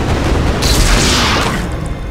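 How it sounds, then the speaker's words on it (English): A beam gun firing in an Unreal Engine 4 multiplayer third-person shooter test map, a single loud sustained blast with a bright crackling burst lasting about a second before fading. "Let's pick the beam gun and let me shoot myself."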